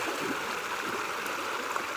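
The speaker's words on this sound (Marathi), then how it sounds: "हे पाणी बघा किती मस्त शांत आहे" A forest stream near a waterfall flows in an even, continuous rushing wash, with no voices.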